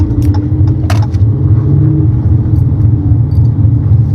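A car drives through city streets downtown, its engine rumbling steadily and loudly from inside the cabin, with light clinks and jingles above the continuous low drone and no talking.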